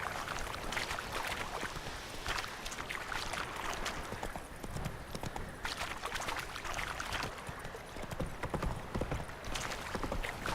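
Horse hooves clip-clop steadily and rapidly in the video game The Witcher 3: Wild Hunt, loud and continuous throughout, with no speech over them.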